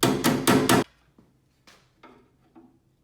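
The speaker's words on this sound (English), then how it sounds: "So the little tinner's hammer." A small tinner's hammer knocks on the corner of a vintage Skilsaw 825 case. Four quick, loud raps come first, then several softer, scattered taps close by.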